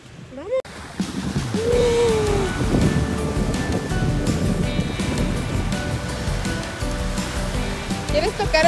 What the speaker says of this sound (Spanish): Mira el mar, Oscar.